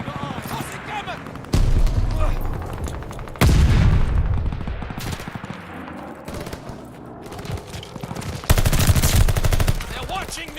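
Nikita AVT rifle fire in Call of Duty MW2, loud bursts of automatic gunfire in several separate volleys with pauses between, with someone talking over parts of it.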